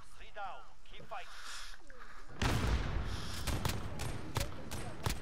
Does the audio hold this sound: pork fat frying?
no